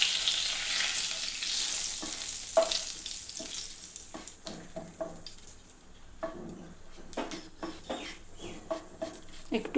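Whole garam masala spices, cloves, cardamom, cinnamon and two bay leaves sizzle and crackle in hot oil for doi katla, a bright continuous frying hiss with scattered pops and stirring clatter, close and alone.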